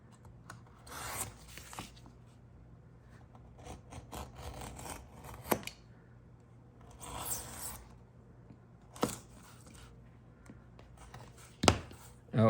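A blade cutting round a curved bottom piece of leather for a knife sheath: intermittent scraping, rasping strokes in short bursts with quiet pauses, close and moderately loud, ending in a few sharp clicks.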